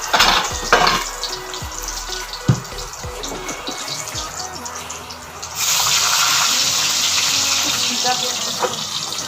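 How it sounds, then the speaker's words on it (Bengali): Eggplant slices fry in a pan in a home kitchen: a steady hiss with clatter and scraping up front, then a louder, even sizzle from about halfway through to the end. "বেগুন ভাজাগুলি ভেজে ফেলে দেবো"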